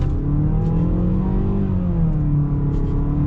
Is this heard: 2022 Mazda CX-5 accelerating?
yes